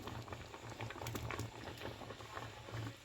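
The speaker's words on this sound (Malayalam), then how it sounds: "അപ്പോൾ നമ്മുടെ കറി തിളച്ചിട്ടുണ്ട്" Kerala vegetable stew curry bubbling in a pot, soft close plopping and popping bubbles in an irregular steady patter, quiet and unaccompanied.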